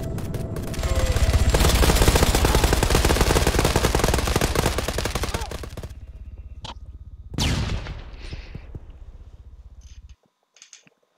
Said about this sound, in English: We're holding the machine gun, see?